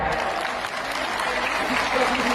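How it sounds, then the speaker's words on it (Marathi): A crowd claps for the women organisers at an International Women's Day celebration in Butibori. The applause is loud and continuous, with crowd noise mixed in, and it runs for the whole stretch. "त्यासाठी सगळ्यांनी टाळ्या वाजवा"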